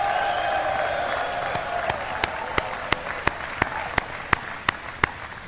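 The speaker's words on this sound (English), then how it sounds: "Graduates, give a big round of applause to your family for everything that they've done for you." Graduates at a Morehouse College commencement ceremony applaud their families, a broad wash of crowd clapping that thins into a few sharp, isolated claps near the end.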